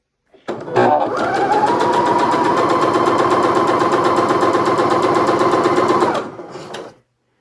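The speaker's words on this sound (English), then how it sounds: "Now we're going to sew on those lines." A sewing machine stitches fabric for a Valentine's heart coaster, one steady, loud, rapid mechanical chatter running about five seconds before winding down and stopping.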